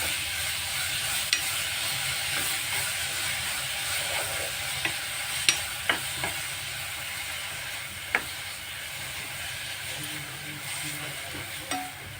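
Steady sizzling of grated beetroot frying in ghee in a pan, with occasional scraping clicks of a spoon stirring, continuous and close.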